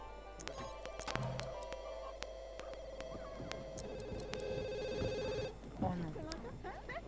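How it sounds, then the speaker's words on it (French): Telephone ringing in The Sims 2 life-simulation game, a repeating electronic ring pattern sounding steadily over game music and background noise, with a brief spoken exclamation near the end. "le téléphone qui sonne"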